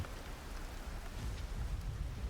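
Raindrops drum on a metal roof in a dense, even patter, a soft continuous wash of small impacts with a low rumbling undertone and no voices.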